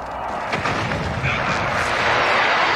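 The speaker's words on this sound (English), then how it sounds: "Airstrike, go, go, go, go." Airstrike explosions in the video game Call of Duty Modern Warfare, a dense rumbling barrage of blasts and crackling impacts, loud and continuous throughout.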